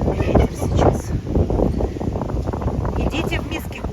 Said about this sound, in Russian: Просто очень сильный ветер сейчас.